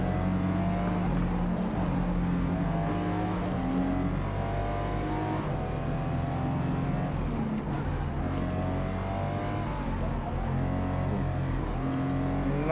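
Race car engines in the Forza Motorsport video game roar continuously during a five-lap race, with loud sustained revving that climbs and drops as gears shift, and no speech over it.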